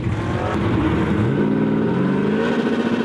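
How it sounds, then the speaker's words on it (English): A Toyota pickup drag car accelerates hard down the racetrack at a Super Street Shootout, its loud, close engine roaring steadily with rising pitch through the run, no voices. "Look at the Toyota driving away from the Pontiac."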